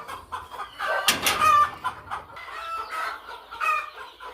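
Country hens and chicks in a poultry brooding room, with a loud close cluck and crowing burst early on, followed by chicks cheeping and softer hen clucks, no talking.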